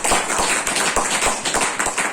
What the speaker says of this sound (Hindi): उनके लिए एक बार अभी आपको जोरदार तालियां होनी चाहिए।